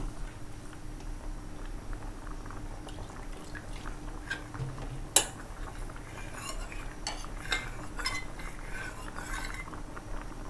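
A ladle scrapes and clinks faintly in a pot of boiling black sticky rice while foam is skimmed off, with soft bubbling, light drips and one sharper metallic tap.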